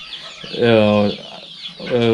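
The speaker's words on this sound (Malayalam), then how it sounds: "ഇത് പ്യൂർ വൈറ്റ് പൂവനാണ്." A one-year-old pure white rooster gives loud, close clucking calls in two strong bursts with a brief gap between them.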